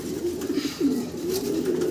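A pair of exhibition fancy pigeons cooing softly and continuously at close range, low rolling coos running through the whole moment with no talk over them.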